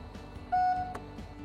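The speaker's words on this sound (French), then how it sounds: "une sonnerie retentit" A Mercedes-Benz GLB sounds a single clear electronic chime while its tailgate opening height is stored: one steady, close, moderately loud tone lasting about a third of a second over a quiet background.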